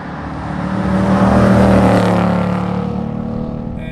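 A 2024 Ford Mustang GT with a cross-plane V8 engine growls through a rising and falling pass, a loud deep rumble swelling to a peak then easing away, with no talk over it.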